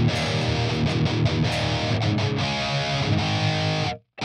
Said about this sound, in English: It just sounds like there's a cocked wah effect going on it.